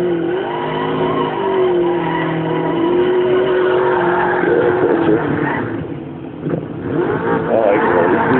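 Rally car in the DiRT 3 video game, engine droning loud and steady with a rising whine, tires skidding and squealing on loose surface, a brief dip near the end before the revs climb again; no talking.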